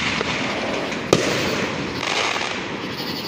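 Fireworks exploding in a continuous crackling roar, with one sharp louder bang standing out, dense and fairly close throughout.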